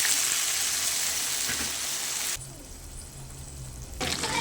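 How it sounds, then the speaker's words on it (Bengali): Water is poured into a rohu fish head curry with beans and bori frying in the pan. A bright hiss of sizzling drops to a quieter bubbling as the water goes in, and the sharper sizzle returns near the end. "এবার পরিমাণ মতো জল দিয়ে দেবো"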